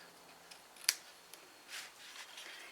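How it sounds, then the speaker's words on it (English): Scissors snip the ends of a ribbon for a table favour bow, one sharp crisp cut followed by a few fainter snips and light handling sounds, close and quiet. "Then I can trim off the ends."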